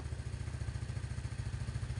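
Motorcycle engine idling close by during carburetor adjustment, a steady, fast, even chugging pulse throughout, with no talking.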